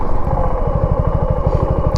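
A motorcycle engine chugs loudly and close in a fast, even idle pulse as the bike is brought to a stop and parked outside an office.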